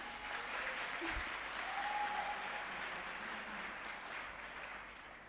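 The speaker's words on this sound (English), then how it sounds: "Can I please have another round of applause for Mr. Robert Miller?" Graduation audience applauds Mr. Robert Miller, a steady wash of dense clapping from a large crowd that holds evenly throughout and eases slightly at the close.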